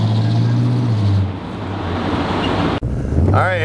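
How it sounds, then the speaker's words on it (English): A 1970 Pontiac Grand Prix rumbles on the road with a loud, low, steady engine drone and wind noise from inside, dipping briefly partway through. "here we go for a ride in the Grand Prix"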